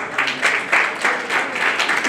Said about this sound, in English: can I hear a round of applause again?